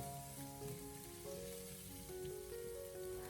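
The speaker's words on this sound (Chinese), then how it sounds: "然后再继续的给它翻炒一下，把姜蒜全部翻炒出香味" Ginger and garlic stir-frying in a wok sizzle steadily at low volume, a continuous crackling hiss with faint background music and no talking.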